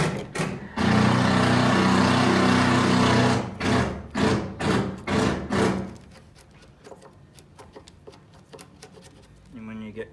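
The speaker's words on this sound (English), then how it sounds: "So this is a pretty sharp saw." A sharp hand saw cuts through wood, starting with a loud continuous rasp and then settling into a run of distinct back-and-forth strokes that fade into quieter scraping and light clicks.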